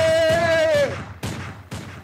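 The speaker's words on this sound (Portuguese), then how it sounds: "toda vez que você ouvir um tiro" Several sharp gunshots ring out, one at the start with a descending tone under it, then two more spaced bangs about half a second apart, loud and close.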